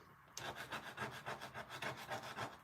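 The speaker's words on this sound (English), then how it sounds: "I take my eraser and rough it up on some sandpaper" A pencil eraser roughed up on sandpaper: quick rhythmic back-and-forth rasping strokes, about a dozen in a row, close but quiet, with no talking.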